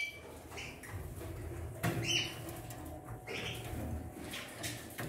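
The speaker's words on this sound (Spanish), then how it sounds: "Mira qué pajarito, intenso." Small birds in an aviary nearing the end of their moult, giving faint, scattered chirps and squeaks with occasional rustling and fluttering against a low background murmur.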